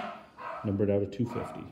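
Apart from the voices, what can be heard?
dog barking in the background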